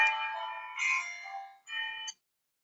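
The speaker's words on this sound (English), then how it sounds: "Excuse me for that bell that just went off." An electronic reminder bell chimes during a presentation, sounding two bright ringing tones with a short gap between them, clear and fairly close, with no talk over it.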